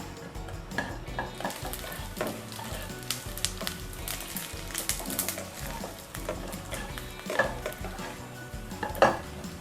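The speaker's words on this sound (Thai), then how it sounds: "เราจะทอดให้กุ้งแห้งกรอบนิดนึงนะคะ" Dried shrimp sizzle and crackle as they fry crisp in a hot pan while a utensil stirs and scrapes against the metal, with occasional sharper clinks.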